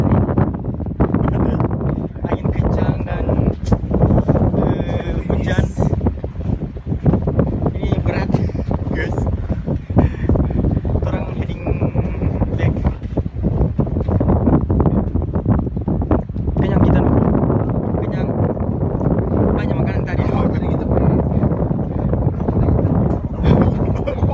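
Strong gusty wind buffets the microphone in a steady roar on a boat at sea, with faint water and boat noise underneath and a voice talking intermittently.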